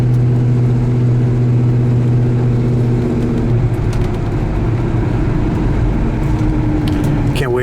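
A 1971 Chevelle's engine droning steadily with strong low tones, then the pitch shifts as the transmission kicks down and the engine revs under load, loud and close.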